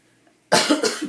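One sharp, close cough from a person with a cold breaks a near-silent moment, with a quick rough follow-up, then fades.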